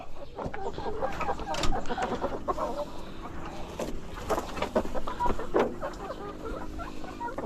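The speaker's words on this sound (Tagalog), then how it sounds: "So dito naman tayo sa mga nangingitlog na manok" Dekalb White laying hens cluck and murmur continuously nearby in a busy coop, with soft scratching and rustling and an occasional louder squawk.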